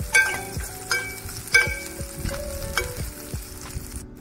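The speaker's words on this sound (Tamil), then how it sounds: "இப்போ கலக்கி வச்சுருக்கிற மோரை ஊற்றிடலாம்." Buttermilk goes into a hot pan of sizzling onions for a Tamil buttermilk rasam, bringing bright sizzling and crackling bursts alongside several sharp metallic ladle and pan clinks, close and fairly loud, with no talking.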